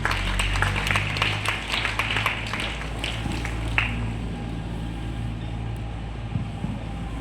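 A school audience at a Republic Day function applauds a gold medal athlete. Crisp, loud clapping fills the first half and then breaks off, leaving only a low background hum.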